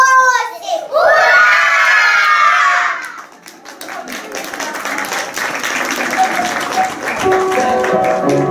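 Kindergarten children at a graduation party shout a loud, sustained hurray together, followed by a lively crowd with applause and excited chatter.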